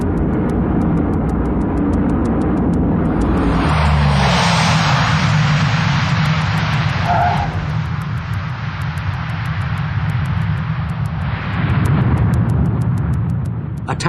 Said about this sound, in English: The bulk of a Hercules brought to a halt in about 750 meters